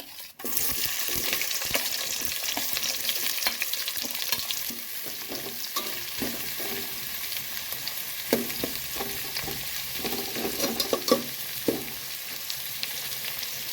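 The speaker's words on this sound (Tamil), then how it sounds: "ஆயில் நல்லா சூடான உடனே கறி மசாலா பட்டை சேர்த்துக்கிடலாம் இப்போ வெங்காயம் ஆட் பண்ணிக்கலாம்" Onions fry in hot oil with curry masala and cinnamon bark for egg biryani, a continuous close sizzle broken by scraping stirring strokes that grow busier toward the end, with no voices.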